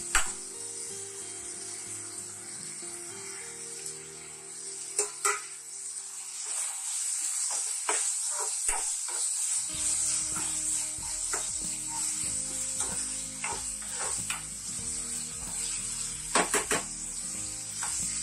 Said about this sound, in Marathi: आता हा टोमॅटो घालू.